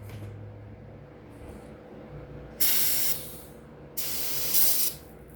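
Brake cleaner aerosol is sprayed onto a 280e spark arrester in two short, loud, hissing bursts about a second apart, close by, over a low background hum.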